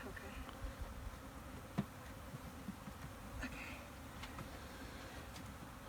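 Honeybees from a package being installed at a farm hive drone in a low, continuous buzz, moderately close, with a soft knock or two and no voices.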